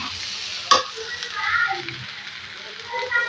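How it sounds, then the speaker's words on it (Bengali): Rice fries with onions in a pot for biryani, a soft sizzling hiss with one sharp utensil knock near the start and light stirring scrapes, while faint voices murmur in the background. "পেঁয়াজের ভিতরে ভালো মতো চালটাকে কষিয়ে নিচ্ছি।"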